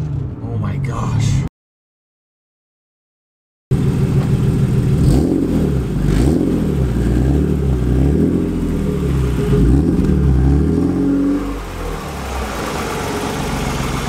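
A BMW E36 M3 fitted with Raceland headers and a new exhaust revs loudly and close up in repeated rising and falling pulls, after a brief silent gap; talk is heard over the engine.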